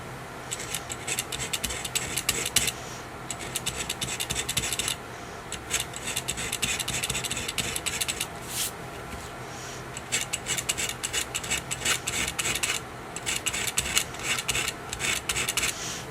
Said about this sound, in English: You can hear from the scratching.